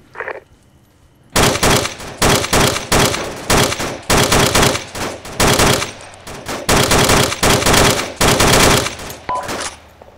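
Bursts of automatic gunfire in a military video game crack out in loud, rapid strings of shots, one short burst followed by repeated sustained volleys with brief pauses between them.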